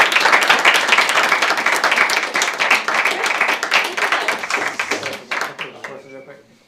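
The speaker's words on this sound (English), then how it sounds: "Should we give them one more clap?" Loud applause from an audience after a capstone project presentation, dense steady clapping for about five seconds before tapering off into scattered claps and a trailing voice.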